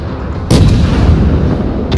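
Warship guns fire in the World of Warships video game, a loud booming salvo that starts abruptly about halfway in and rolls on as a sustained heavy rumble to the end.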